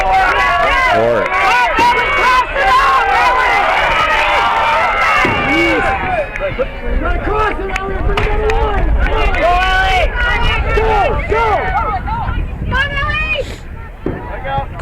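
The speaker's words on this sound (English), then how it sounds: "Crowd getting a little edgy here." Crowd at a girls' basketball game growing restless, dense overlapping shouts and voices with whoops and calls, loud and continuous, with people talking throughout.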